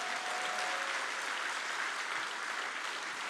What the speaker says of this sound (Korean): 다시 한번 뜨거운 박수로 격려해 주세요.